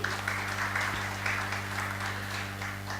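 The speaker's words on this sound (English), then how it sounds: "A round of applause to all our panelists once again" Audience at a panel discussion applauding the panelists, a steady moderate clatter of clapping over a constant low electrical hum, with no talk.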